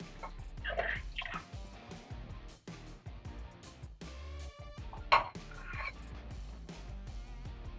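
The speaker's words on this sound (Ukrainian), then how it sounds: "Так, треба злити воду." Dirty, sediment-laden water draining from a household water heater during a safety valve replacement, heard as irregular dripping and splashing with bursts of gurgling flow and a sharp clink or two.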